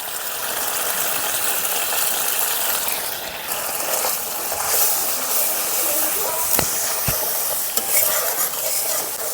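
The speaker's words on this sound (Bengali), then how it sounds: "এখন যতক্ষণ না মশলা থেকে তেল ছেড়ে দিচ্ছে ততক্ষণ কষাতে থাকবো" Spice paste with salt and turmeric frying in oil for a fish curry sizzles and hisses loudly while being stirred continuously, with a couple of sharp utensil knocks near the end.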